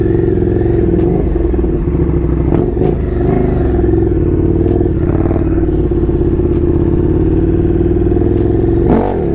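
A large fly-by-wire dirt bike engine revs and pulls hard while being ridden, a steady loud throbbing drone with rising and falling throttle surges and some clatter throughout, close and continuous.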